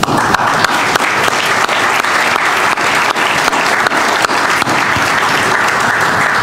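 Audience applause at the Bermuda Tourism Authority tourism summit, a dense, steady clapping from a large crowd that fills the whole stretch at close, even loudness with no voices over it.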